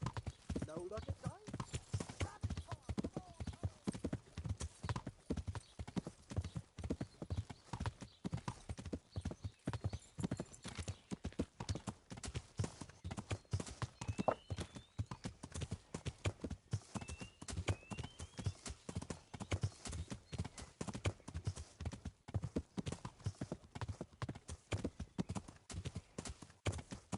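Horse hooves clip-clop in a steady rapid rhythm while riding through a settlement in the video game Kingdom Come Deliverance, continuing throughout with occasional faint whinnies and people talking over it.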